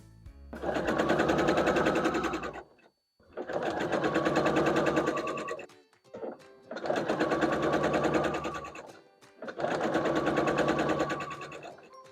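Sewing machine stitching snowballed corners on small acorn quilt blocks, four long steady runs of rapid whirring stitches separated by brief pauses, close and clear.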